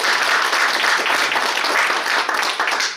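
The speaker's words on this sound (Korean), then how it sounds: "격려의 박수 부탁드립니다." Dense, sustained clapping from an audience at a Korean organization's founding ceremony, a steady roar of many hands that continues unbroken for the whole stretch.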